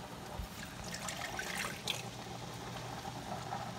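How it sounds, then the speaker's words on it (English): About a cup of water poured into a pan for a meatloaf sauce, a soft, steady trickle and splash that runs quietly throughout, close by, with no voices. "So I'm just gonna add 1 cup of water to a pan to dissolve."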